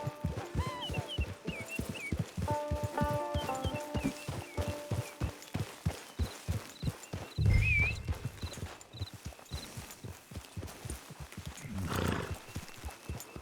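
In the video game Red Dead Online, horse hooves clip-clop in a steady rhythm throughout, with a brief whinny and snort partway through, over faint music.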